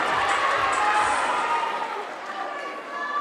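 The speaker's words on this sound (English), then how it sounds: "We bid farewell with a big round of applause to all the other girls" A pageant audience cheers and applauds the contestants, a dense and steady wash of clapping and crowd noise that fades slightly toward the end.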